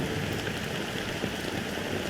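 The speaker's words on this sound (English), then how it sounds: "it's still raining." Steady rain pours in the video game Honkai Star Rail, a dense, even hiss of drops on surfaces that holds without a break throughout.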